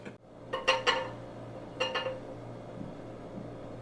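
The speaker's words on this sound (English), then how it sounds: "the ground beef is going into the bowl to be on standby" Cooked ground beef scraped from a skillet into a bowl, a few sharp clinks of utensil on metal and dishware in two short bursts, then a quiet room hum.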